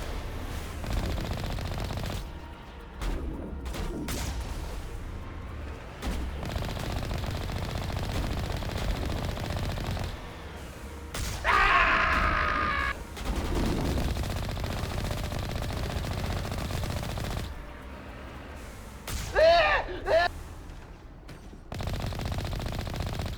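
Video game gunfire in Mass Effect comes in loud rapid bursts of automatic fire broken by short gaps, with some sharper whining shots among them, close and without talk.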